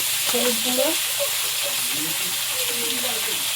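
Shrimp frying in oil with panch phoron in a Bengali home kitchen, a loud close sizzle and hiss throughout, with a voice talking over it in places.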